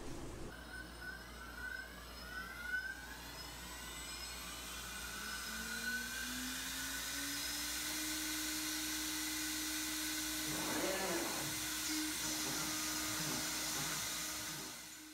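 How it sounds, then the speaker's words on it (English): A full-table CNC router able to handle 4-by-8-foot sheets whirs through acrylic, its spindle whine rising in pitch and then holding a steady, moderately loud drone with a brief rattling burst near the end. "This is a full table CNC router that can handle a 4-foot by 8-foot sheet of acrylic, or MDF, or whatever it is I plan to cut"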